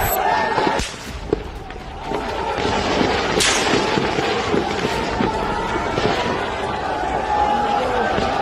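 Gunfire in news footage of armed men opening fire on a procession from rooftops in PoK, sharp booming shots and bangs over a dense roar of commotion and crowd noise, with a reporter's voice running through it.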